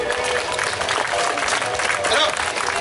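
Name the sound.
audience applause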